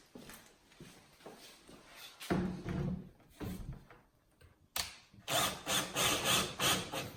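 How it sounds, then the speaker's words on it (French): A small cordless screwdriver drives screws into kitchen cabinets in several short whirring bursts, separated by quiet gaps. The last burst is the longest, and the sound stays fairly soft and close. "on va visser les meubles ensemble. Petite visseuse. De la vis."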